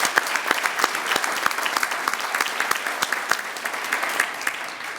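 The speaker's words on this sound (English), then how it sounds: "another round of applause for everybody in the teaching profession" Enthusiastic applause at a public schools banquet, a dense crowd clapping throughout with many distinct sharp claps standing out, loud and sustained without a break.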